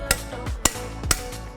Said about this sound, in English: It's like hitting one of these with a hammer in order to turn a screw with a screwdriver.